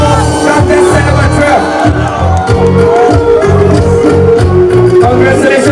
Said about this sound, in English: Can we have a big round of applause for contestant number